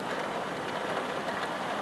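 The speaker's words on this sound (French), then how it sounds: "c'est une pluie très fine et régulière" Fine, steady rain falls in a snowy mountain town, a soft even hiss of drops with no gusts or breaks, faint and continuous throughout.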